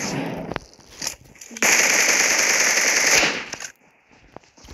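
Automatic weapon fire in the mobile battle royale game PUBG Mobile: a burst of shots, then a long, loud sustained stream of gunfire, followed by quieter scattered shots and game ambience.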